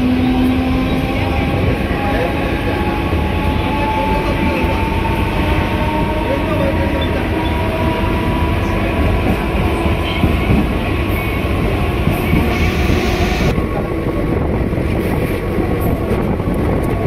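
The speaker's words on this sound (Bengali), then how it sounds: "ট্রেন ছেড়ে দিল মিডা রোড থেকে" Passenger train pulling out of Mira Road toward Bhayandar, a steady, loud rolling rumble with continuous wheel-on-rail noise and wind, unbroken for the whole stretch.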